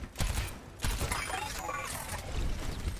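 Gunfire in the video game Overwatch, aimed at the payload, comes as dense, loud bursts that start abruptly and run on continuously with a busy, mechanical clatter, alongside some speech-like sound.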